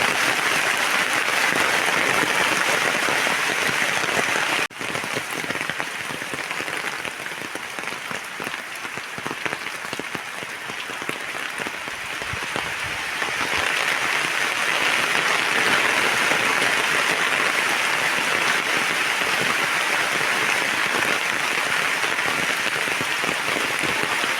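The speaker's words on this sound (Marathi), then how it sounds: "पाऊस आला मित्रांनो बघा" Heavy rain pours down steadily over a cashew orchard in a dense, continuous hiss, with a brief sharp knock early on.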